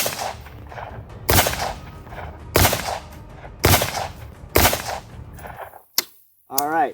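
Five loud, close rifle shots of M855A1 rounds striking a Level III+ armor plate at an outdoor range, evenly spaced about a second apart, followed by a brief clang and a short voice.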